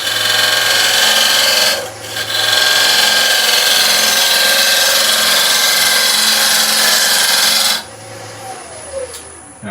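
Steady, continuous scraping and rasping of a gouge making a push cut on a wooden bowl spinning on a lathe, loud and close, easing off briefly near the start and dropping away toward the end.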